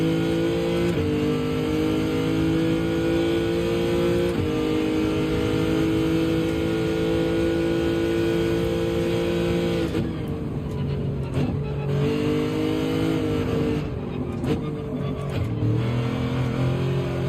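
A Porsche race car engine in a racing video game at Spa-Francorchamps holds a loud, continuous high drone, its pitch climbing and dropping through gear shifts, with throttle blips and lifts near the end and no talking.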